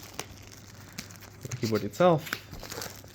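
Plastic wrapping on a new mechanical keyboard crinkles and rustles in short bursts up close. Someone speaks briefly at the same time.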